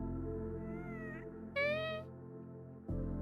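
A Minecraft cat gives several meows in turn, the first softer and the next one louder and higher, set against a steady low game background hum, with no talking.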